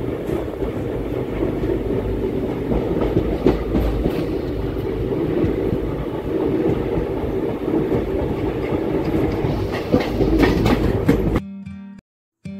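A local train runs on rails at night near Sankrail station, a steady, loud rumble with rattling carriage clatter that continues throughout before cutting out abruptly near the end.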